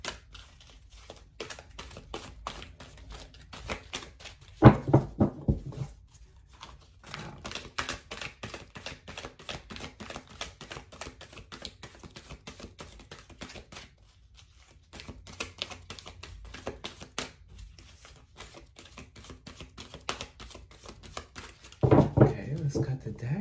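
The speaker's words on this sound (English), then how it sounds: "Let's give it a nice shuffle." Cards are shuffled with rapid, papery riffling and flicking, in bursts with short pauses, while a voice talks quietly at times.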